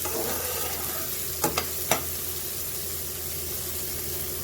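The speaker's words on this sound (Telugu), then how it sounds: "ఇలా సన్నగా కట్ చేసుకొని ఫ్రై చేసుకోవాలి" Thinly sliced boti, or tripe, fries in a pan with a steady, close hiss throughout, broken by a few brief clinks of stirring near the middle. No one speaks.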